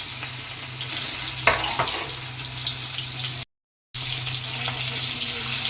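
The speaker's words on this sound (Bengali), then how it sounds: "তো তেল গরম হয়ে গেছে এখন মাছগুলিকে হালকা করে ভেজে নেবো" Hilsa fish pieces fry in hot mustard oil in a kadai, a loud continuous close sizzle with a brief spatter and a momentary cut partway through, no voices.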